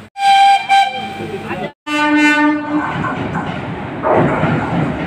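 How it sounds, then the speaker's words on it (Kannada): The Tirupati–Chamarajanagar Express (16220) at Mysore Junction sounds a loud, close horn with a short break, then rolls on with rumbling wheels and a fainter horn over the station din. "ತಿರುಪತಿ ಚಾಮರಾಜ್ ಎಕ್ಸ್ಪ್ರೆಸ್."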